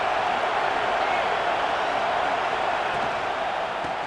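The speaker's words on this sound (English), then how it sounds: "This crowd ready to make its presence known." A steady, dense roar from a big football stadium crowd at a Nebraska versus Michigan game holds unbroken and fairly loud throughout, a broadcast commentator's voice audible over it.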